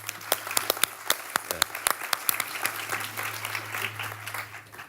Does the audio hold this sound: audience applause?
yes